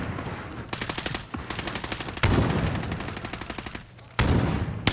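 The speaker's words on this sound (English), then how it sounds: "He's shooting." Bursts of automatic gunfire in the Call of Duty: Modern Warfare video game, rapid rattling volleys broken by short gaps, with one loud sustained stretch midway and a second heavy burst near the end.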